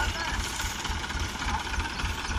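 A Mahindra 475 DI or New Holland 3600 tractor engine runs steadily and loudly under strain in a sugarcane field, a continuous low rumble with a faint voice over it.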